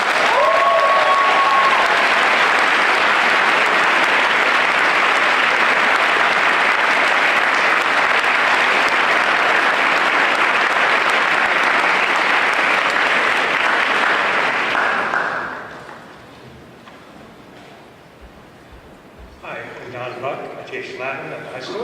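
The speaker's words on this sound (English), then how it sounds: "Please give a round of applause to Aline Rollenbahn." A large audience at a high school Class Day ceremony claps loudly and steadily for about fifteen seconds, then the applause fades, leaving faint room noise and some quiet movement.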